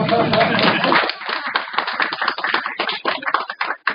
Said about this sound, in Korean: 딴 데 가면 이 정도 되면 박수가 나와야 되거든요